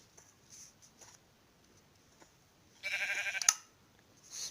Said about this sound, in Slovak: Ovečky.